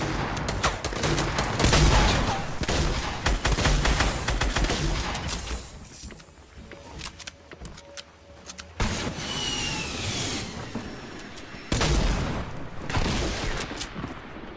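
Gunfire in the video game Fortnite, with repeated heavy shotgun blasts and rapid shots that form loud dense bursts, a quieter stretch in the middle, then more shooting toward the end, close and alone with no talking.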